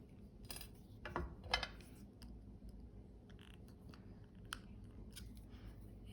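Jewelry wire for spring-wrap earrings is snipped with cutters, giving a few faint, sharp clicks spread over a quiet room background.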